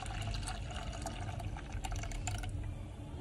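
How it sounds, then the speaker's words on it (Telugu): Tamarind juice being poured and stirred into blended pani water for panipuri, giving a steady, continuous liquid pouring and swirling sound up close with no talking. "ఇప్పుడు ఈ చింతపండు రసంను ఇందులో కలుపుతున్నాను"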